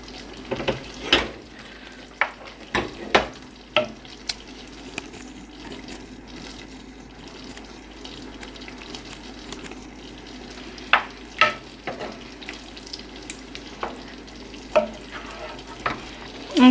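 A pan of chilli con carne with kidney beans simmers with a soft, continuous bubbling sizzle, broken by scattered clinks and taps of a utensil against the pan and a few brief louder knocks.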